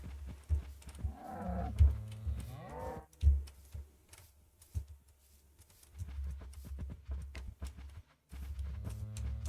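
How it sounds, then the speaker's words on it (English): Cows in the Minecraft video game moo several times in distinct low, drawn-out calls of varying pitch, close by, with soft game ambience and a few thuds in between. "all 3 different cow sound variants here"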